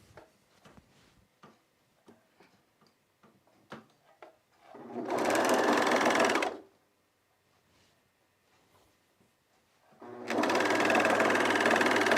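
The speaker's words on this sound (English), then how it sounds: "We're going to overlock these 4 edges separate." An overlocker sergees the edges of trouser fabric in two sustained bursts of rapid whirring stitching, close and loud, separated by a quiet pause with small handling clicks.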